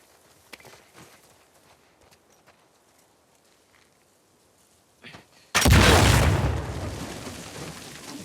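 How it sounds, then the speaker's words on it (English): An explosion in The Last of Us Part II bursts suddenly and loudly after quiet footsteps and faint rustling, then a rumbling roar slowly fades away. "why is nobody sort of being alerted to these loud explosions"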